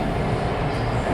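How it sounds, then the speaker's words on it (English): A train rumbles steadily through a station at close range, a dense continuous roar of wheels and carriages with no pauses. "Oh, there goes the train."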